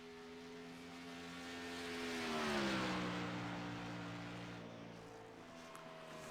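A race car on a qualifying lap approaches and passes, its engine note swelling to a loud peak and falling in pitch as it moves away, a smooth Doppler sweep with no talk.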